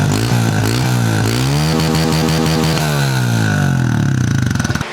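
A Honda CRF125F dirt bike with stock engine and stock exhaust revs up and down repeatedly, its close, buzzing single-cylinder note rising and falling in pitch before cutting off.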